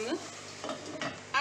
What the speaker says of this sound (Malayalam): നമ്മൾ അതൊന്ന് വഴറ്റി അത് ചെറുതായിട്ടൊന്നും ഫ്രൈ ആകാനായി വെക്കുകയാണ്